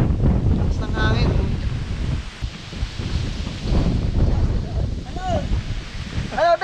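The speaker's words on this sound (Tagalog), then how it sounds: "Lakas ng hangin." Strong gusty wind buffets the microphone outdoors on a motorcycle adventure ride in the Philippine countryside, a loud continuous low roar throughout, with brief voices and a whistling tone breaking through.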